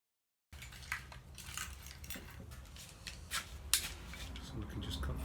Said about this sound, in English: And you can just cut that off with the knife.